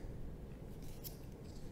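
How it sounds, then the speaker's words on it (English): Scissors snip through yarn while finishing a small crocheted keychain chick and eggshell: a single soft, quiet cut around the middle of a low steady background hum, no voices. "now we're basically ready to cut the yarn"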